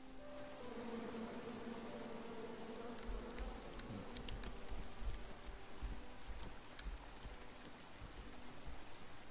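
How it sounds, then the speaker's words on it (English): Bees in a video game buzz as a continuous hum with tonal layers, joined by a low rumble and scattered clicking sounds partway through. "Come at me, bees!"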